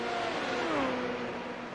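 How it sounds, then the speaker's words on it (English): Formula 3.5 race car engine in the iRacing game, running at Watkins Glen, holding a steady high-pitched drone with a tone that wavers and drops as it bounces off the rev limiter, loud and continuous without speech. "you can just hear that car bouncing off the limiter"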